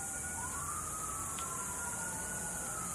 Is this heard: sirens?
yes